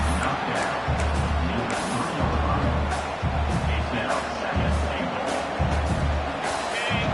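A big college football stadium crowd roars for the defense near the goal line in a Colorado versus Oklahoma game. The dense roar stays loud and continuous, with swelling low rumbles and occasional surges.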